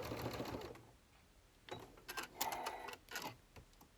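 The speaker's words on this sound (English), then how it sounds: "So stitch until you reach the first mark and stop with the needle down at that mark" A sewing machine stitches a fabric seam on a zippered pouch, starting with a loud, dense whirring run, then a pause, then several shorter stitching bursts and mechanical clatters, close and alone.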